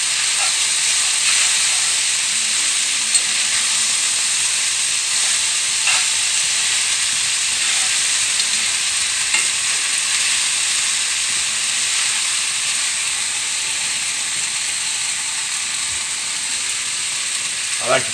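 Noodles and vegetables sizzling in olive oil in a pan for chicken pesto, giving a loud, steady, hissing frying sound close up that runs unbroken throughout with only faint clicks.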